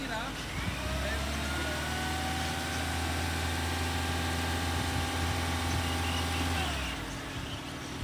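A Toyota Innova Hycross hybrid engine runs at a steady idle close by, a constant low hum through the clip that drops away near the end, with someone talking over it.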